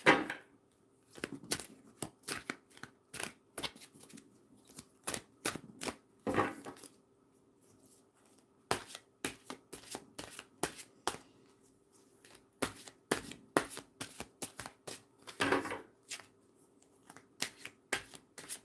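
A deck of cards being shuffled repeatedly, quick riffling bursts and soft flicks recurring in uneven rhythm, close and clear with no talking.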